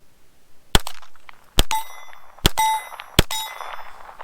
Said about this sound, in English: This one right here is in .22 caliber. Let's just see if I can shoot it one-handed.